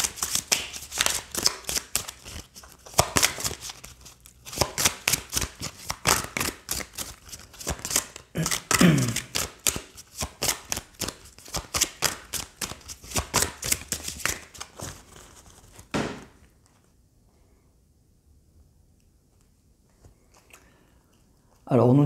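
Oracle cards are shuffled by hand in a long run of rapid riffling and slapping bursts. Quieter shuffling and card handling follow, then near-silence before a brief sound at the end.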